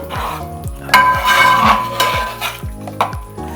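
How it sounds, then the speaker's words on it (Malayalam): Masala is stirred in a pan for a Thrissur-style chicken and tapioca curry, with a spoon scraping and clinking against the metal in a quick, steady rhythm of about a dozen strokes over a faint sizzle. "3 ചെറിയ ടീസ്പൂൺ മസാല അതിട്ട് കഴിഞ്ഞ് നമ്മളൊന്നും കൂടി ഒന്ന് ഇളക്കി കൊടുക്കണം."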